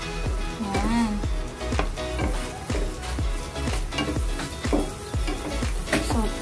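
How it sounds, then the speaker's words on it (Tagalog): Margarine melting in a pan for nachos gives a steady close sizzle and frying hiss, with occasional scrapes of a spoon stirring against the pan and a few soft knocks. "Tunawin ang margarine."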